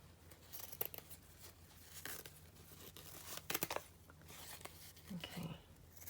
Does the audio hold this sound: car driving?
no